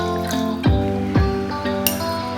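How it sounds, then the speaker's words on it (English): Water being poured into half a cup of milk in a kitchen, a short run of splashing, dripping trickles with a couple of sharp liquid plops, close and alone. "Take half cup of milk, in that add half cup of water"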